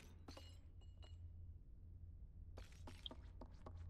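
A porcelain vase falls and shatters in the Little Nightmares video game, giving a scatter of faint, sharp clinks and breaking pieces in two clusters over a low, steady hum.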